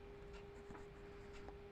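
Chalk or a marker makes a few short scratching strokes on a board, faint and close, over a steady hum.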